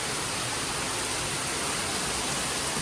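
Steady broadband roar of a waterfall at Watkins Glen on a foggy day, continuous and full with no breaks, heard alone without voices.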